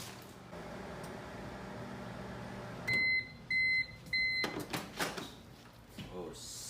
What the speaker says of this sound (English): Then put my food inside the microwave.